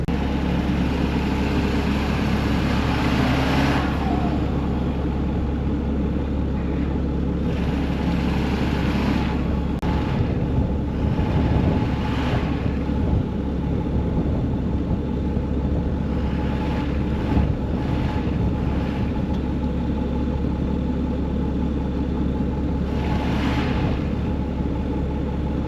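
A farm vehicle stuck in snow with its wheels spinning: a continuous loud engine drone and tire whir that holds steady, with wind noise and a few brief louder surges.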